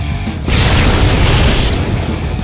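Heavy gunshot from the game Shin Megami Tensei 4 Apocalypse, a single loud booming blast that leaves a long, rumbling, noisy tail.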